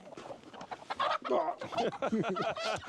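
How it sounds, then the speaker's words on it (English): Chicken clucking on a small farm in a rural Japanese village, a run of close, busy squawks and clucks filling the moment, with voices mixed in. "The chicken got out."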